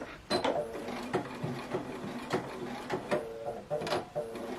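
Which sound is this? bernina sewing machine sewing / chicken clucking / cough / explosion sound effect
bernina sewing machine sewing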